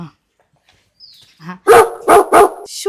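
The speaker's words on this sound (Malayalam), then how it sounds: "ഈ പട്ടി." A house dog barks three times in quick succession, loud and close, following a brief faint bit of voice.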